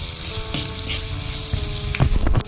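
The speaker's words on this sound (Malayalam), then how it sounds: "നന്നായിട്ട് ഒന്ന് മിക്സ് ചെയ്ത് വഴറ്റിയെടുക്കാം." Chopped ginger, garlic and onion sauté in a hot pan, giving a steady close sizzle, with a few louder stirring scrapes and clatters near the end and no talking.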